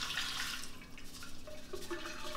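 Soaking water being strained off chiles de arbol, a close, continuous splashing pour that thins into trickles and drips, with no one talking.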